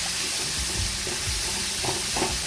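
Chopped garlic sizzles in hot oil with chilli powder while a banana blossom and prawn Manchurian is being cooked, a loud close steady frying hiss with small stirring bumps and pops.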